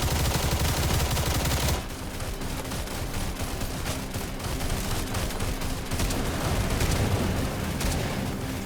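Breacher shotgun firing at mutants in Stalcraft, dense repeated gunfire and blasts layered over a constant roar of combat noise, loud and continuous, with a heavy burst at the start.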